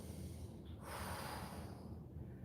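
During a Pilates hold, a person takes a faint, close breath, drawing air in slowly and then exhaling audibly through the nose, quiet and alone.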